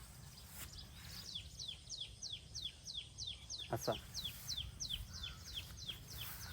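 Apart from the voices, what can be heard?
birds calling in a village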